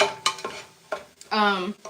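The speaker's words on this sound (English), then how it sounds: "I'm just going in, giving it a quick stir." A utensil stirs a pot of taco soup on the stove, with short scraping strokes and a brief sustained tonal scrape, close and moderately loud with no talking.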